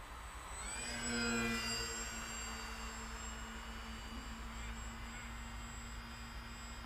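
A small RC model airplane, a Bush Mule with a fat wing mod and 10x6 props, flying and coming in to land: a steady high electric motor whine with tonal sweeps over broad outdoor wind noise, continuous and moderately distant.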